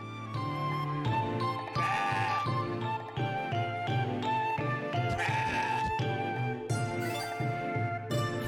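A goat kid bleats in the video game CrossCode, several wavering bleats in a row over background game music, moderately loud and clear.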